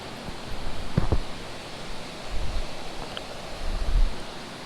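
Steady broadband rush of a creek waterfall below where walleye are being fished, a continuous near wash of falling water with a few faint low thumps and handling knocks, no voices.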